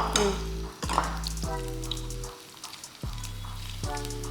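Garlic and chopped onion fry in a pan of oil, a steady close sizzle that swells with each stir and scrape, broken by a few brief bumps and short quieter dips.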